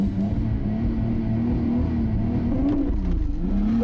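A Nissan R32 Skyline GT-R launches on drag radial tyres, its engine note revving and wavering as it bogs slightly, heard fairly close with no voices.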